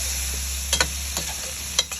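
Tomato being stirred into a sizzling ampalaya sauté in a large Salad Master casserole, with a few short scraping stirs over a steady frying hiss, close and alone.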